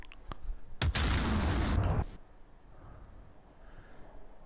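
A loud, continuous burst of aircraft gunfire in the DCS AJS 37 Viggen combat flight simulator lasts just over a second, then drops to a quiet cockpit hum.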